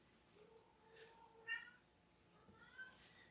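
Cats meow faintly a few times in a quiet indoor room, short soft calls spaced across a few seconds with low background hush.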